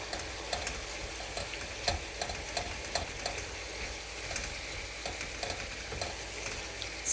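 Tomatoes fry in a pan with a constant crackling sizzle and scattered sharp pops and light utensil taps throughout, heard up close with no talking.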